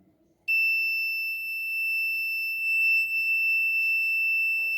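An electric buzzer wired in series with a forward-biased PN junction diode and a battery starts abruptly and holds a loud, steady, shrill electronic tone without a break.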